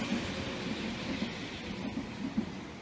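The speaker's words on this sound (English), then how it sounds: "Trains again." A train rumbles past at a moderate distance in a steady, continuous drone with faint periodic clacks, heard alone without talk.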